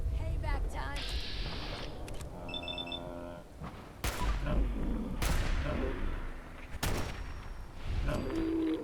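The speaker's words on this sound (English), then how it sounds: "Who the fuck is shooting at me?" Gunfire in a Fallout wasteland game, several sharp, loud shots cracking at irregular intervals over ambient game sounds and interface tones, with someone talking throughout.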